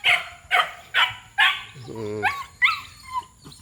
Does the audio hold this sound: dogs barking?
yes